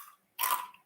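One sharp, close crunch as teeth bite into a crunchy, buttery, pretzel-like breadstick snack. The bite is loud and brief, with a short crackling tail.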